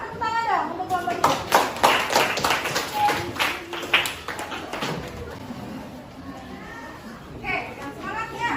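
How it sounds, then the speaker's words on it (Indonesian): Clapping from a classroom of children for a presenting group, a burst of many small hands with kids' voices and chatter mixed in, fading into quieter talk before a brief second flurry near the end. "tepuk tangan dong untuk kelompok 3"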